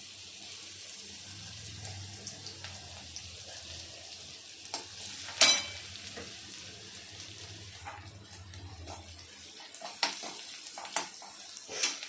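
Cumin and mustard seeds dropped into hot oil for a fenugreek leaf dish, a faint steady sizzle with crackles and a few sharper pops, close by and without talk.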